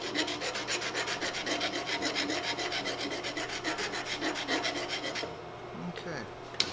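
A file rasps a small bevel onto a muzzleloader ramrod pipe in fast, even, close strokes for about five seconds, then stops, leaving faint handling noises.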